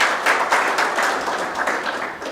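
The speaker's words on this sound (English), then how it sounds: "Let's appreciate Joshua Startup with another clap" Brief clapping from the audience at the official opening ceremony of a Kenya–US trade mission, uneven and moderately loud, with no speech over it.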